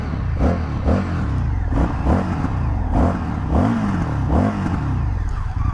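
An Indian FTR V-twin motorcycle fitted with a Carver exhaust, revved repeatedly in short throttle blips, each a deep rising snarl falling back to a lumpy idle, close and loud with no talk.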